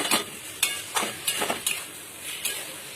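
Prawns with raw tomato and two green chillies fry in a pan, a soft sizzle broken by several quick stirring scrapes at an uneven rhythm, close and fairly faint, with no talking.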